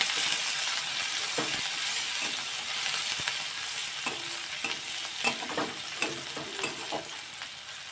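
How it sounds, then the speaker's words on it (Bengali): Chopped onion and garlic frying in oil in a pan, a continuous close sizzle with occasional scraping stirs, no talking. "পেঁয়াজ রসুনটাকে ভালো করে ভেজে নেব।"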